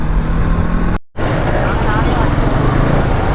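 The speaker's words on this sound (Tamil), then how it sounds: "டிராஃபிக் வேறு." Steady road traffic rumble on a street, with passing vehicles and broadband noise throughout and a brief dropout near the start, recorded by a rider whose NS200 bike caught fire on the road, with voices faint in the mix.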